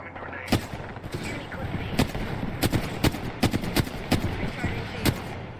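Video game battle gunfire, with sharp shots cracking at uneven intervals, some close and loud, some further off, over a busy background of game noise and voices.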